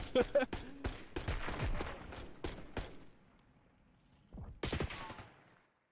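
Rapid gunfire bursts from an esports video game match, EWG Rising versus Statix in the group B playoffs, crackle in quick succession and then thin out, with another short volley near the end under light talk.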